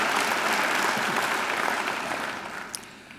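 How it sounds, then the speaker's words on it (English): A graduation ceremony audience applauds in a large hall, a dense wash of clapping that gradually fades out toward the end. "I think he deserves another great round of applause"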